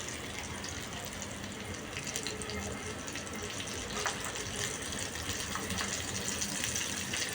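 Fish fillet pieces frying in hot oil, a faint, steady hiss and crackle with soft pops throughout.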